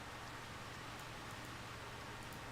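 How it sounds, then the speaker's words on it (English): Rain in the video game Conquest of Azeroth, a steady, even hiss of falling water with no breaks, soft in level and with no voices. "Oh, the rain's still very, very loud."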